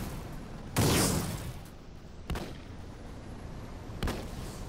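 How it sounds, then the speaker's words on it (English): Tank shell firing in the Roblox game Armored Patrol: one loud booming cannon blast, followed by two fainter, sharper distant shots over a steady rumbling game background, with no talking. "Oh, and I missed with a tank shell."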